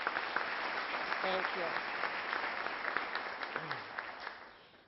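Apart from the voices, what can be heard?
audience applause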